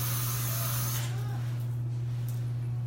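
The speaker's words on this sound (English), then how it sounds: "Utilize some of our marula spray. Super workable, flexible hairspray." Marula hairspray misted in a salon, a soft broadband hiss in the first second, then fading, over a steady low electrical hum.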